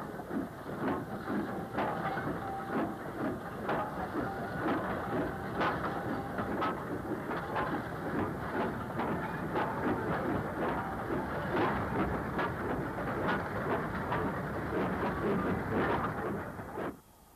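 A Class 504 electric multiple unit on the 1200 volt DC side-contact third-rail Manchester–Bury line near Crumpsall passes a looped freight headed by a class 28 locomotive, giving a steady loud rumble with rhythmic wheel clicks throughout, no talk.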